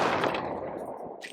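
Field cannons fire in a Civilization VI battle, a loud, rumbling burst of artillery booms that fades out over about a second.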